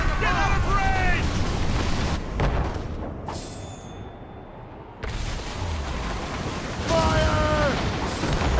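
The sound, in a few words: cannon volley fired from ship, Assassin's Creed Rogue video game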